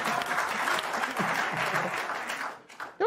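Studio audience claps briefly after a crude joke on a news talk show, a short burst of applause that fades, then a voice begins speaking at the end.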